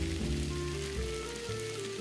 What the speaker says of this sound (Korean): 물기 빠진 어묵도 함께 넣고 볶아주세요